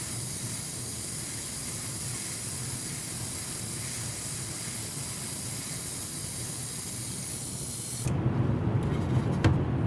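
Airbrush spraying continuously during cleaning after model ship painting, a steady close hiss for about eight seconds, then cutting to a quieter, clattering tail.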